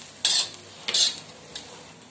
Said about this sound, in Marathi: अशा पद्धतीने हा ठेचा परतवून झालेला आहे, तुम्ही बघू शकता.